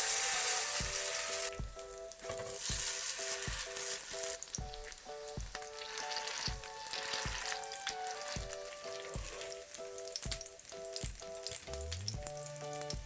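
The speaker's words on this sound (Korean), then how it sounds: "남은 반죽도 빠르게 구워줄게요." Tofu and tuna pancake batter frying in a pan, giving a steady close crackling sizzle with regular scraping and tapping sounds throughout, no talk.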